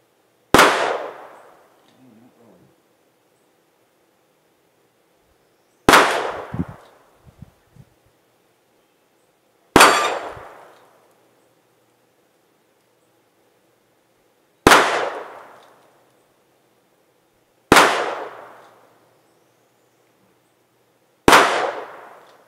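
Six sharp, loud gunshots from a Smith & Wesson Model 64 revolver fired at an outdoor range, spaced a few seconds apart, each with a quick decaying echo.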